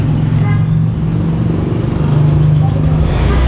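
A 2024 Honda Beat Premium scooter engine, started with the electric starter, idles with a steady low, close drone while someone talks over it.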